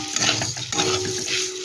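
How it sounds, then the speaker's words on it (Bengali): Paneer and a little sugar are stirred in a kadai, with a spoon scraping and clinking against the metal over a soft sizzle, close and continuous for a moment. "আমি এখানে কড়াইতে দিয়ে দিচ্ছি পনির, আর দিয়ে দিচ্ছি অল্প করে একটু চিনি"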